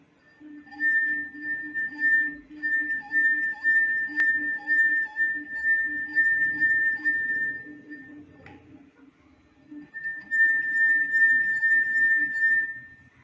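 A clear, sustained ringing tone from a wet finger circling a glass rim, swelling and fading in pulses, pausing briefly before resuming.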